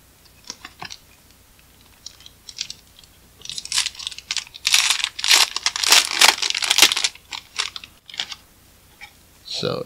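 Opening a 2020 Panini Prizm Draft football card blaster box, with close crinkling and tearing of cardboard and foil wrapping in bursts, loudest in the middle, alongside intermittent talking.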